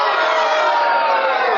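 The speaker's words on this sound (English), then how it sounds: "Some serious booing there." A crowd jeers and boos in a loud, sustained wash of voices.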